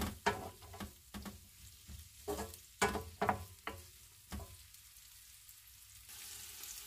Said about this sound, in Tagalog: naggisa ako ng sibuyas at bawang